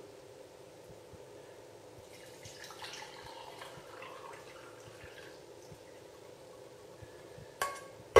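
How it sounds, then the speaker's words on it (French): Golden milk, turmeric milk, is poured through a small strainer back into a cup, making a faint, steady trickle and drip with a soft clink near the end. "Il ne reste plus qu'à remettre dans la tasse. On filtre un petit peu."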